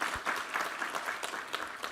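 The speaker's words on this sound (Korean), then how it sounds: "우리 하나님께 감사와 영광의 박수 올려드리겠습니다." Church congregation applauding during a Sunday worship service, a steady wash of many hands clapping together for the full two seconds, fairly close and even in loudness.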